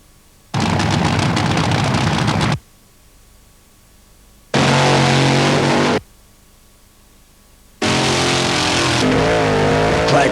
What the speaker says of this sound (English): Drag racing, born in America,